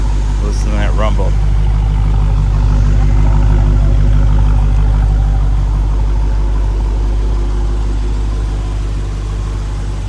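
A 2016 Dodge Challenger SRT idles with a deep, steady, loud rumble, close and continuous. Someone speaks briefly near the start.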